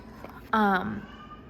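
A pet cat lets out one short, loud meow close to the microphone in a quiet room, with a person talking around it.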